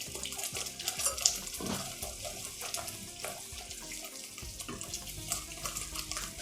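Cornflour dissolved in water pours into a pan while making capsicum halwa, a steady close trickle and splash with a few faint clinks of utensils.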